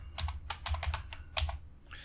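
Fingers tap quickly on a computer keyboard nearby, producing quiet, irregular clusters of crisp key clicks with short pauses between bursts and no talk.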